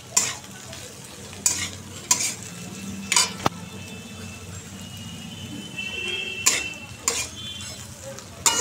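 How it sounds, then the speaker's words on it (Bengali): Onion, carrot and potato sizzle in a pan under a steady fry, with sharp, repeated spatula scrapes and stirring clatters at irregular intervals, up close and with no speech. "পেঁয়াজ কালি গাজর আলুটা ভাজা বসালাম"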